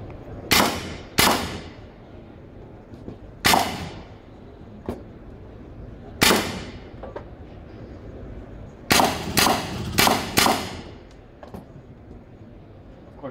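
Simulated gunfire from a laser shooting simulator at the IDEX defence exhibition: sharp single shots ring out irregularly, some close together in quick pairs, over a low hall murmur.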